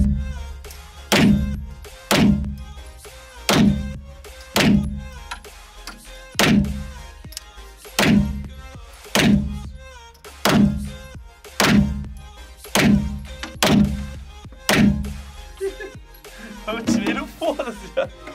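A real pistol fires at a target from about seven meters, with a sharp shot roughly every 1.3 seconds for about a dozen loud, close reports. Voices talk near the end.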